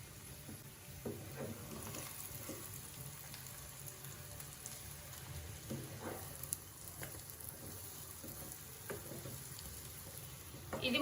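Spicy street-style scrambled egg frying in a pan gives a faint, steady crackling sizzle, with soft spatula scrapes and taps as it is cut and stirred.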